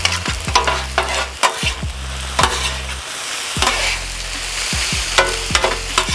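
Chicken fried brown rice with sesame oil and soy sauce being stirred in a hot pan, steady sizzling broken by repeated scraping and clanking spatula strokes, close and alone.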